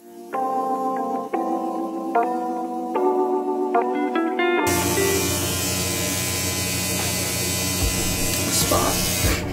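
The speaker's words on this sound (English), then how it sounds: "I'm gonna go over that again with my little clipper thingy." An electric hair clipper buzzes close up while cutting hair on a head during a home haircut, starting and stopping in short bursts before running continuously with a steady, loud drone.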